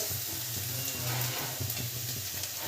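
Grated cauliflower sizzles and fries steadily in a pan with salt and onion for paratha filling, a close continuous crackle with occasional stirring.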